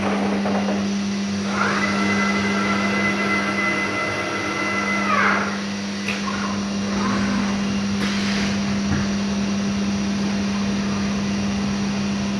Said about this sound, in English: we're going to see how that machine cuts out a short string for a staircase